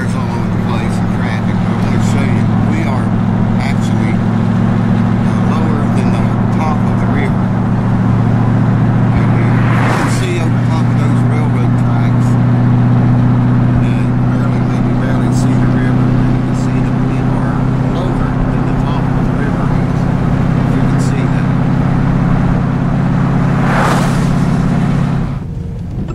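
Cars passing on a road beside the meeting point of two rivers, a continuous loud traffic rumble with a couple of swelling pass-bys, someone talking over it.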